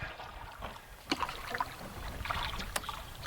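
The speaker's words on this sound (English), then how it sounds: "let's paddle down here a ways, and then we'll flip it around again" Quiet splashes and drips of a paddle dipping into water as a canoe moves down a river, with a soft wash of flowing current and light wind around.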